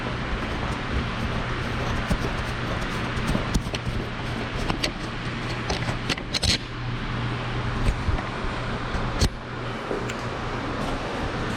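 Close handling noise from a camera being unmounted on a 2021 Harley-Davidson Street Glide Special: scattered clicks, taps and rustles over a steady low hum, with no talking.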